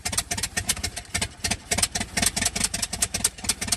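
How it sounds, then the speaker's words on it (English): A restored 100-year-old truck engine runs roughly after a long time abandoned, with a loud, uneven chugging of rapid irregular firing pulses that continues steadily throughout. "the 100-year-old engine came back to life"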